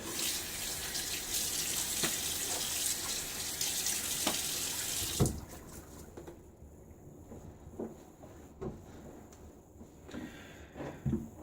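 A tap runs into a sink at close range while the face is wetted before a shave with a boar brush, a continuous rushing splash that stops partway, leaving soft dripping and small handling sounds.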